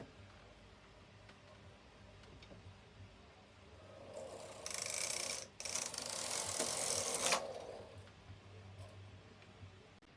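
A Knitmaster 323 knitting machine carriage is pushed across the needle bed for one row of lace work, making a faint mechanical whirr and clatter that rises for about three seconds in the middle, with quiet surroundings before and after.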